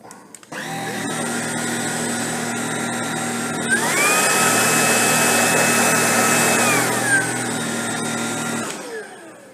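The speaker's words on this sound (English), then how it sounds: "I'll just turn the vacuum on, and you'll notice that it will start in auto power mode, and I'll pump it up to max power mode" A Tineco Pure One S15 cordless vacuum hums steadily, then its motor pitch climbs to a louder, higher whine as it steps up from auto to max power mode, holding there before winding down.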